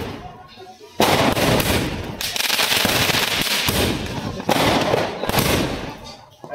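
Firecrackers bursting outdoors during Diwali celebrations, loud crackling volleys in rapid clustered bursts, close and sustained with brief gaps between barrages.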